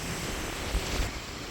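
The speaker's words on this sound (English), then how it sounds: "Yeah, we by the ocean." Ocean surf washes onto a man-made beach in Dubai as a faint, steady hiss of breaking water mixed with wind buffeting the microphone.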